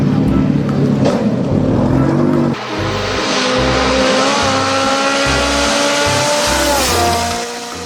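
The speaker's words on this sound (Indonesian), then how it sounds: "Yang ini ada mobil balap." A toy race car gives off loud, synthetic racing-engine sounds with revving pitch sweeps and tire-squeal tones, shifting to a new rising rev pattern partway through.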